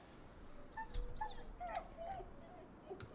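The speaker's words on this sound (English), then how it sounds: "Oh, there's a dog." A dog in the video game Ghostwire Tokyo gives a few soft whimpers and yips over a low ambient game backdrop, faint and brief, with no talk.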